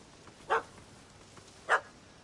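Two short, sharp dog barks about a second apart, fairly close and clear over a quiet background, from a puppy in The Witcher 3 video game.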